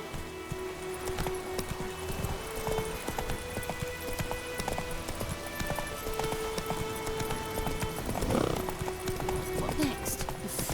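Roach the horse galloping in The Witcher 3, a rhythmic clip-clop of hooves running on and on at close range, with a whinny and someone talking over the hoofbeats.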